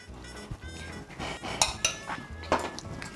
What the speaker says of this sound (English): Stir the ghee in.